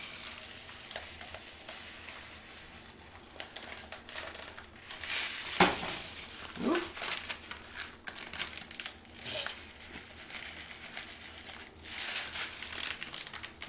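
A plastic bag of rice, about a pound, crinkles and rustles in a kitchen while the grains are measured out, with a sharper crackle midway and softer intermittent handling noises around it.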